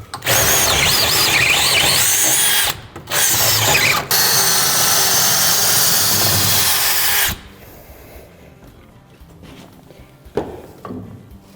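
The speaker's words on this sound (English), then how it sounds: "drill through the frame, through the post, and then install the 1/2-inch carriage bolts" A power drill grinds steadily through a wooden post and frame for a cargo lift mount, loud and continuous with one brief pause, then cuts off, leaving quieter shop noise and a faint clank.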